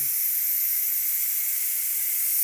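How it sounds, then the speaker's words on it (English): Pot of beans on the stove venting steam, a steady, loud, broadband hiss that continues unbroken throughout. "Look at that steam."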